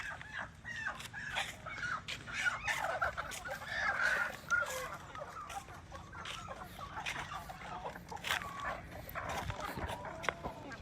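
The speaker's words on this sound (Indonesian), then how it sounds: "Dan ini adalah angkutan bebek dan juga ayam." Ducks and chickens being transported calling, clucking and squawking from a crowd of birds, with continuous chatter and bursts over a steady background hum, at a flooded bridge at Tumbang Nusa, Central Kalimantan.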